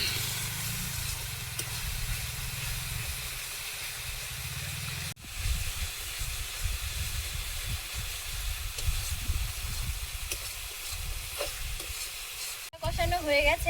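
Spices being stir-fried in oil for a chicken curry, with a continuous loud sizzle and hiss and the spoon scraping the pan at close range, a brief break midway and a sharper burst of frying near the end.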